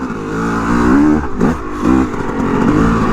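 A 2-stroke 250 motorcycle revs close by, its engine note rising and falling in a few loud, sweeping pulls with a rough, rapid buzz throughout.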